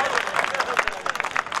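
Applause from an audience at a Hindi comedy poetry gathering, a steady dense patter of many hands clapping at moderate volume throughout, with a voice or two mixed in.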